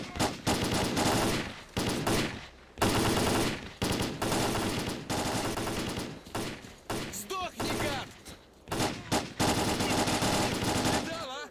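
Rapid automatic M4 rifle fire in the STALKER: Clear Sky video game, loud repeated bursts of gunshots separated by short pauses, with brief talking and game sounds between volleys.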